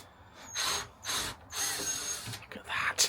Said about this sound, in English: She's a demon with that drill.